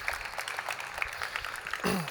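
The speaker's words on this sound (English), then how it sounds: "Round of applause" Conference audience at a JuliaCon programming talk gives a brief, moderate round of applause, steady and diffuse throughout the room, ending as a voice begins.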